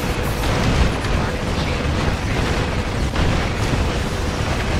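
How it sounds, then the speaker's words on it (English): Continuous rumbling explosions and booms in the video game Star Trek Online, dense and loud, with indistinct voices mixed underneath. "Explosions! Let's have a firework going while we are in it."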